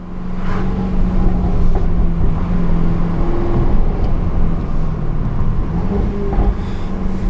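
A Jaguar F-Type R climbs an uphill road, its engine droning steadily and loudly up close with tire and road rumble, no talking over it.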